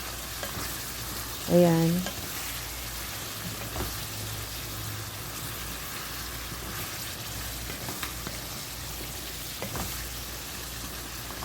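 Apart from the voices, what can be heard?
mutton gravy frying in oil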